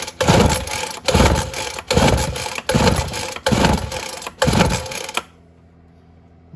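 A Ryobi gas leaf blower, RY09056 or RY09550, is pull-started five times in steady rhythm, each loud rasping pull briefly catching without the engine starting, then it falls quiet.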